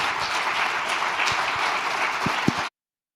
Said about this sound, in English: Another applause for you.